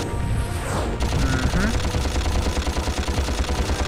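Rapid blaster fire in Ratchet & Clank crackles as a fast, evenly spaced stream of shots, loud and continuous after a brief rising whoosh, amid game effects.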